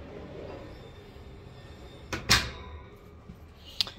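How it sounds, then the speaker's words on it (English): A pull-out pantry cabinet beside the refrigerator in a 2019 Airstream Atlas Murphy Suite motorhome slides and thumps shut in one brief, fairly close clatter, followed by a faint light knock, over quiet interior background. "You do have a pantry that pulls out right next to this refrigerator here."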